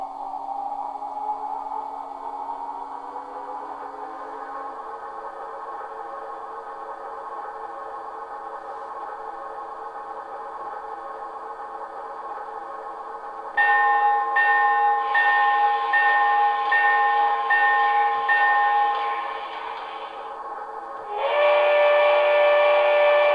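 HO scale Broadway Limited PRR S-2 6-8-6 turbine model locomotive with Paragon 4 DCC sound gives a steady whining turbine drone, then sounds repeated close, loud whistle blasts over the running hum.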